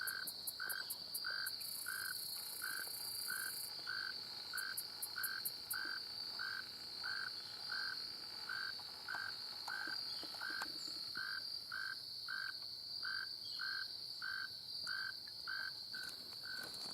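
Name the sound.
tree frogs croaking in swamp reeds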